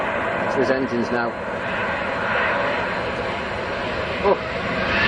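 Aircraft engines run with a steady, loud roar and broadband hum throughout, while voices talk over the noise.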